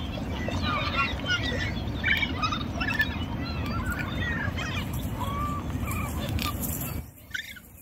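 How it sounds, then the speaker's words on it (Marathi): Birds call around a wetland, with crows cawing and smaller birds chirping in repeated bursts over a steady background hum, fairly close, before the sound drops away near the end. "इथे शांततेत मस्तपैकी पक्ष्यांचा आवाज ऐकायला खूप खूप मजा येते"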